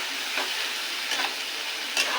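Spices sautéing in a pan for begun bhog, an eggplant dish, make a continuous close sizzle with a few brief stirring scrapes and no talking.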